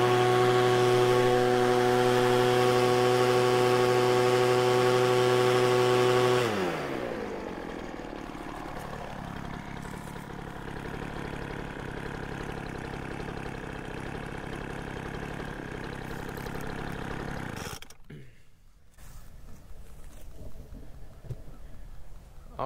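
A Poulan Pro leaf blower's small two-stroke engine, its carburetor just leaned on the high side, runs loud and steady, then drops to a rougher lower idle and cuts out near the end.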